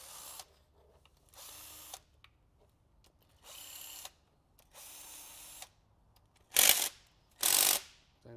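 A ratchet wrench loosens cylinder head bolts on a 1996 Toyota 4Runner engine in several separate bursts of about a second each. The last two bursts are louder and harsher, with quiet gaps between them.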